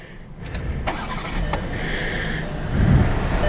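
A 2018 VW Atlas SUV engine starts by push button, a short crank and catch that rises into a steady idle with a low rumble near the end, heard from inside the cabin with no talking.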